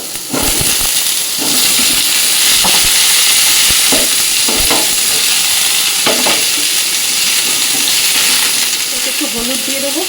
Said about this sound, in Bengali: এবার আমি ঝিঙেটা অল্প তেলে এর মধ্যে ভেজে নেব